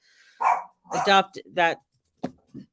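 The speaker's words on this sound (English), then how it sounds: "My daughter's coming in, so the dog is freaking out." A household dog barks in short excited bursts near the entrance as a family member comes in, with a few sharp yips mixed in and a person speaking close by.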